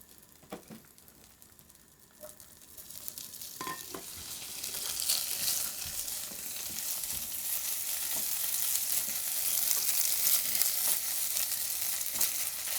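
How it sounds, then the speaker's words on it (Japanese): Bacon stir-frying in melted butter in a deep frying pan over medium heat, a soft sizzle that starts quietly and builds into a steady, dense crackle that fills the whole stretch, with no talking. "溶けてきたらベーコンを加えて炒めていきます。"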